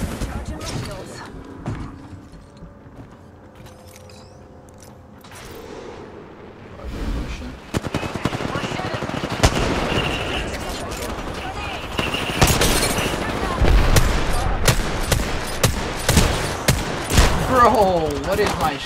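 Gunfire in the Apex Legends battle royale game: sparse shots at first, then dense bursts of rapid firing and impacts that grow louder and busier, with a player talking over the action.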